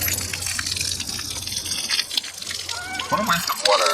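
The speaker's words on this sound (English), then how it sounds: "What a waste of water." Water pours and gushes out in an animated fantasy scene, a steady liquid rush with splashing and dripping, mixed with background music and brief talk.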